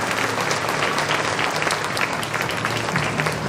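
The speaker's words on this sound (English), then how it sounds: "I request all the parents to give a big round of applause for Ashma ma'am." A school parents' audience claps steadily and loudly at a kindergarten orientation, a dense even wash of applause that holds throughout without pause.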